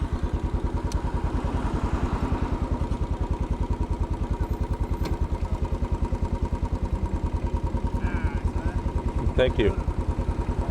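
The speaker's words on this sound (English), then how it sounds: "So I'm going to start up the bike and we're going to get going." A Royal Enfield Bullet 500 single-cylinder motorcycle thumps steadily at idle close by on Fifth Avenue in New York City, its even rapid pulses continuing throughout, with a brief spoken remark near the end.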